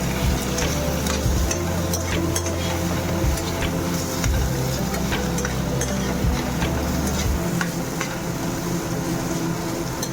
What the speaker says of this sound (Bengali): দিয়ে এবার একসাথে এগুলোকে আমি সতে করে নিচ্ছি।